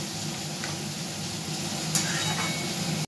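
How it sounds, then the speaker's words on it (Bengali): Soybean and potato curry sautéing in a home kitchen pan gives a steady, close sizzle with faint stirring scrapes, continuous throughout and ending in a brief cutoff. "কষানোটা হচ্ছে সোয়াবিন আলু তরকারি।"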